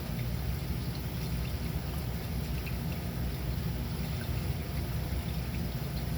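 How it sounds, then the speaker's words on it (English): Steady low rushing and trickling of washing machine water running out through a drain line, continuous and fairly quiet throughout. "I can hear the water coming out down that line"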